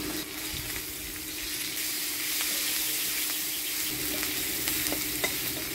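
Chopped garlic, onion and green chillies fry in a hot wok, giving a close, steady sizzle broken by soft scraping and stirring clicks, with no talking.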